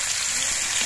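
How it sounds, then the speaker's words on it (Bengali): Crushed garlic hits hot oil already holding whole cumin seeds and slit green chillies, producing a loud, dense, close sizzle that holds steady throughout. "এবার এর মধ্যে আমি থেতো করা রসুনটা দিয়ে দিচ্ছি।"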